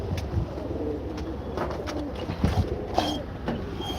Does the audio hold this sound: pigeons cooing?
yes